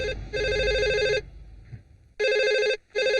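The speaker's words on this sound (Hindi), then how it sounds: "फोन नहीं सुनाई दे रहा है क्या?" An electronic telephone rings in repeated bursts with short gaps between, close and loud, with faint background noise in the pauses.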